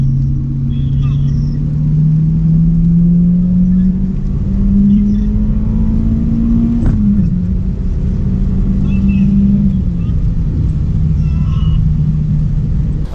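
A salvage-rebuilt, tuned Audi A3 2.0 TDI diesel accelerates hard through its gears in normal drive mode, its engine drone climbing steadily in pitch with a brief dip at a shift, heard from inside the cabin as a loud, continuous rumble.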